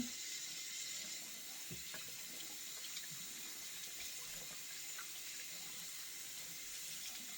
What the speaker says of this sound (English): I will let the water out, and then I'm going to rinse the conditioner out.